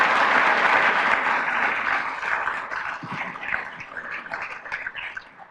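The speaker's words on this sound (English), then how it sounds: "Applause." A Rotary club audience applauds at a luncheon gathering, a full, loud burst of many clapping hands that gradually thins and fades toward the end.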